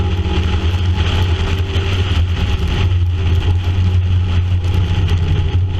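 A Triumph Spitfire race car with a Triumph 1300 engine runs on a wet Sandown circuit, a loud, steady engine drone close to the microphone with a hiss of rain and spray underneath.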